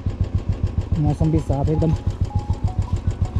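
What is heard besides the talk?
Royal Enfield Bullet motorcycle engine running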